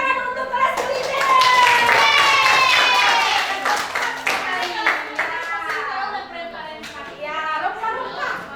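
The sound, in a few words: class clapping for culinary class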